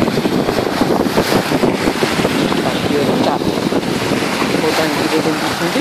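Steady roar of sea waves washing against rocks on a shore, mixed with gusty wind buffeting the microphone, continuous and loud throughout.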